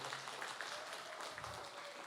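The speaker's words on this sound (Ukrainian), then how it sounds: "Я не закінчу доповідь, якщо бути кожного разу аплодувати" An audience applauds during a talk, a dense steady wash of clapping that holds at an even, moderate level throughout.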